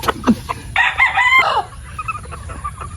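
A young gamefowl stag crows once at a game farm, a loud nearby cock-a-doodle-doo with a rough, breaking tail, preceded by a few clucks and followed by softer clucking.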